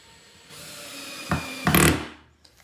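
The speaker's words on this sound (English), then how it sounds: "And I'm using a drill gun." A power drill whirs briefly, then drives a screw into wood with a louder, rough burst before stopping; short and close, with no voices.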